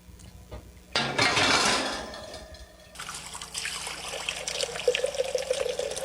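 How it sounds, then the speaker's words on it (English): Hot tap water running into a pasta pot in a kitchen, a faint trickle first, then a strong gush into the empty pot that settles into a steady, splashing fill. "Start with hot tap water and put it over high heat."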